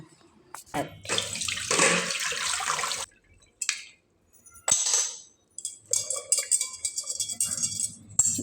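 Hot water is poured off blanched green peas in the kitchen, coming in several loud splashing bursts separated by short pauses, with faint clatter between them.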